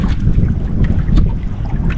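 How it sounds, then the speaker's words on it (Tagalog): Strong wind roars and buffets across a fishing boat at sea, a loud, dense, continuous rush with low rumbling gusts close to the microphone. "Nagalakas ang hangin."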